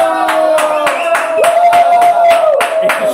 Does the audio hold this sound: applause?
yes